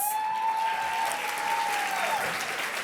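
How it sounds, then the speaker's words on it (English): An audience at Daybreak's 50th anniversary Champions for Youth event applauds in a steady, even patter that holds at moderate loudness throughout, with a sustained tone running under the clapping until near the end. "I think that was a very nice round of applause"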